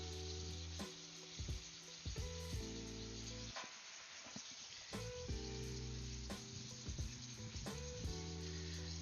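Beef sautés in a pan with a steady sizzling crackle, heard close, while a musical backing with bass notes plays over it and no one speaks.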